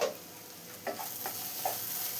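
Clam meat fries in a pan, giving a steady low sizzle with a few soft scraping stirs of a spoon at intervals, close and fairly quiet, no voices.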